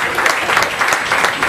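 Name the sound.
audience applause welcoming speaker Rajat Talati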